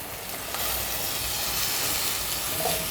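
Onion sautéing in a pan for a Marathi radish-leaf bhaji with dried shrimp (sukka javala), a steady close sizzle with a brief stir, heard alone without talk.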